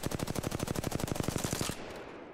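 A fully automatic weapon firing in Apex Legends, a fast even stream of about twenty loud shots lasting under two seconds, then stopping abruptly into a fading echo.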